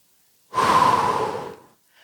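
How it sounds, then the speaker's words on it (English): A single long, steady breath blown out during a seated push-up exercise, close and clear, about a second long and then silence. "Breathe in. Blow out."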